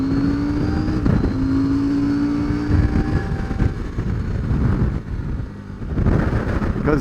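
Wind roars and buffets steadily over the engine drone while riding a 2022 CF Moto 800MT motorcycle, a loud continuous rush with gusty swells through the whole stretch.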